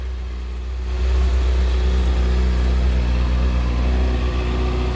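A 2013 Honda CBR600RR 600cc supersport motorcycle engine idles, then its revs climb and hold steady at a loud, close, continuous drone with a strong low hum.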